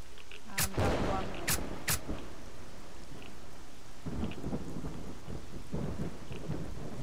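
Rainstorm in the video game Lost Alpha, a steady hiss of rain with low rumbling thunder and a few sharp cracks early on, then heavier rumbles later, all fairly loud and close.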